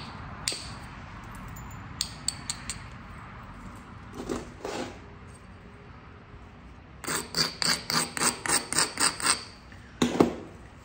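Rubbing the striking platform of a coral piece while flintknapping arrowhead, a series of short dry rasping scrapes, scattered at first, then a quick regular run of about ten rubs, close and fairly quiet with no talk.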